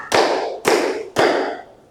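Three sharp, evenly spaced claps from a group of students in a classroom, each with a short ringing decay, with no talking.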